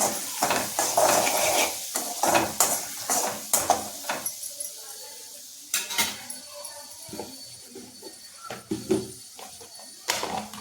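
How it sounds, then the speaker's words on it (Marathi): Turmeric being stirred into onions in a pan for kande pohe: repeated scraping and clinking of a spoon against the pan over a faint sizzle, irregular strokes, busier at first then sparser. "हळद चांगली मिक्स करून घ्यायची कांद्यामध्ये"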